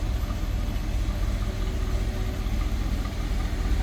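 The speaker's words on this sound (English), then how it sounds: "Dual exhaust." A 1958 Ford Thunderbird idles steadily through its dual exhaust, a continuous low rumble with even pulsing that stays close and loud from start to finish, with no voices over it.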